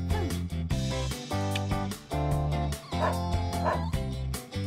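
A dog barking and yipping in repeated loud, close bursts against a dense musical backing.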